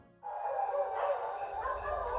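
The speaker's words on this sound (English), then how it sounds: "I awakened to the shrill howling and yipping of coyotes nearby." A pack of coyotes in the Arizona desert at night breaks into shrill, high-pitched howling and yipping, a continuous wavering chorus starting abruptly and carrying on steadily, nearby and fairly loud.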